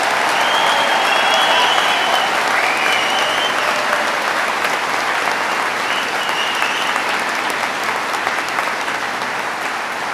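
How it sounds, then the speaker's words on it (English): A large audience claps steadily at a New York State Police basic school graduation ceremony, a dense, sustained round of applause filling the room for about ten seconds, loud and even throughout with no voices standing out. "Let's give them a round of applause."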